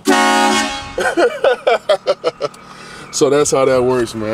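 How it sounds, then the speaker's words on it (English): A train horn fitted to a Chevy pickup truck plays a loud tune close by, a long opening blast followed by a run of short rhythmic toots, then someone talks. "That's the train horn."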